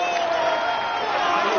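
A large crowd applauds and cheers a Tour de France stage winner, a dense, steady roar of clapping and voices that stays loud throughout.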